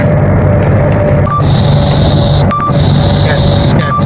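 A speed camera detector alarm beeps inside a moving car driven by an OFW driver, with short repeated electronic tones sounding loud over constant road and engine rumble.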